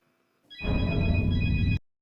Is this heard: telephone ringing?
yes